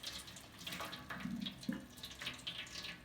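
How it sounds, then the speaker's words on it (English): Scalding hot water poured over raw chicken skin before smoking on a pellet grill, a steady watery splashing and trickling close by, continuous for a few seconds with no talking. "We want to cover this everywhere with this scalding hot water."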